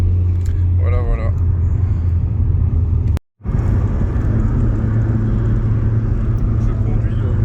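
Exhaust drone of a BMW 318is E36 resonating inside the cabin while driving, a steady low rumble filling the car throughout, briefly cut out for a moment midway, with people talking over it.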